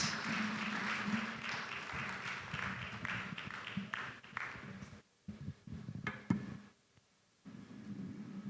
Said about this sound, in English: A final round of applause for our amazing panelists.